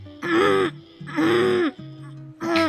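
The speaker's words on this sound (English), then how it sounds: "Why are you clearing your throat?" Three throaty, drawn-out vocal rumbles spaced about a second apart, each voiced and strained like someone hoarsely clearing their throat, sounding close and fairly loud with short pauses between them.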